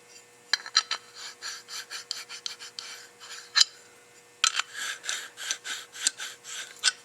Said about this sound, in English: put a little sticky sandpaper on the end of it, and trim it so that it's that size, and then just go down and turn them.